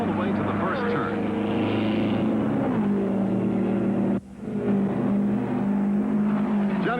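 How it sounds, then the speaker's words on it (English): Indy race cars roaring as they accelerate toward the first turn at the 1972 Indianapolis 500, with loud sustained engine drone and shifting pitch, under a commentator talking over the noise. "It's a drag race all the way to the first turn."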